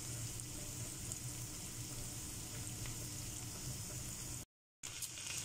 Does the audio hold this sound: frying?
yes